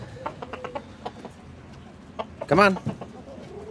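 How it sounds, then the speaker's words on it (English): Farm chickens let out into the morning cluck in short scattered bursts, and one bird gives a loud, rising squawk partway through. Someone speaks briefly between the calls. "Release the birds."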